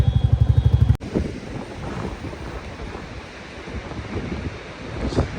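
Steady rushing water of a river on the route from Rishikesh to Govindghat, with wind buffeting the microphone, preceded by a brief rhythmic engine-like hum at the very start.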